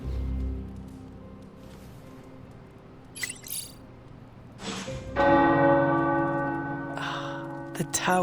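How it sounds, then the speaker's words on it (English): Tower church bells ring in the video game Marvel's Midnight Suns, rising after a quieter ambient stretch into sustained bright tolls with long ringing tails, and faint voices sit underneath. "The tower bells are ringing."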